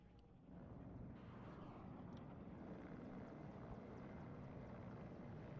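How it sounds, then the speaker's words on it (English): In the video game WARNO, a military helicopter flies overhead with a continuous throbbing rotor drone that swells at the start and then holds steady, fairly near and alone without voices. "Moving across another helicopter for support against the infantry here."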